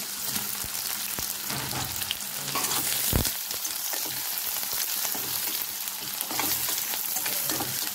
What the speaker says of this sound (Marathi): कांदा छान लालसर आपल्याला भाजून घ्यायचा आहे